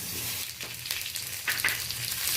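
Green mango pieces frying with green chili and a five-spice tempering in a pan, a steady close crackling sizzle with a few brighter pops, no voices.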